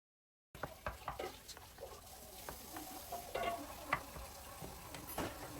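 Mashed potato and carrot are stirred in a pan, soft repeated scraping and light sizzling taps close by after a brief silence, fairly quiet, with no speech.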